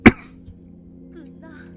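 One sharp, loud cough bursts out right at the start, then fades into a quiet background with faint game sounds and a brief murmur of voice.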